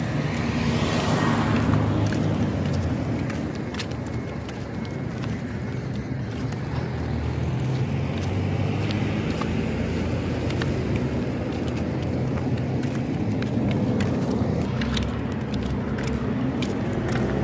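Steady traffic noise from many vehicles passing on a road outside a camp at night, a continuous low rumble with engines swelling and receding, no voices.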